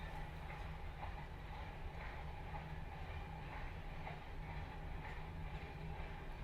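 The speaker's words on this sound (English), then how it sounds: "There's a train in the background." A train rumbles steadily in the background, a continuous low rolling drone with faint rhythmic clatter that runs unbroken throughout.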